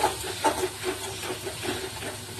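Onion, garlic and spices frying and being cooked down in a pan with small splashes of water, giving a steady loud sizzling hiss with slight bubbling throughout.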